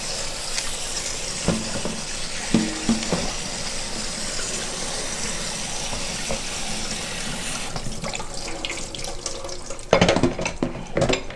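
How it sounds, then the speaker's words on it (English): Spinach being rinsed under a running kitchen tap, a steady wash of water over the sink with a few clatters, the flow breaking into splashier bursts near the end. "I'm going to wash the spinach"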